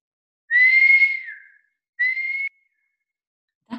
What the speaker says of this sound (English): Yes, Rashmi, that is the call of a thrush, says Ranveer uncle.